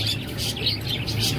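Birds at a bird market with parrots and pigeons, a continuous wash of chirps and calls close by, steady and moderately loud with no talk.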